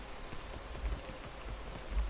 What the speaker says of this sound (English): Now I'll have to wait for the rain to stop.